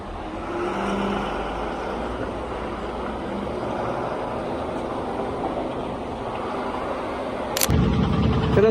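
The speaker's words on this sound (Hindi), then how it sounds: "थोड़ा सा लंबा टर्न लेना पड़ेगा अपने गाड़ी को" A truck loaded with solar panels makes a long turn out through a gate onto a rough, potholed road, its engine rumbling steadily nearby for several seconds before a sudden louder jolt near the end.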